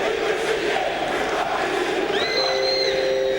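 A Euroleague basketball arena crowd at a 2006 Dynamo Moscow versus Benetton Treviso game roars continuously and loudly, with whistles rising above the steady cheering.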